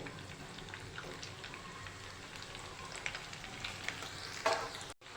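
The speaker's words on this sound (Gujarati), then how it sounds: "તેવી રીતે આપણે બીજા બોલ્સને પણ તેલમાં મૂકી દઈશું" Maggi noodle balls fry in hot oil, a quiet, steady crackling sizzle with scattered pops and a soft stirring clink near the end, close by and without talk.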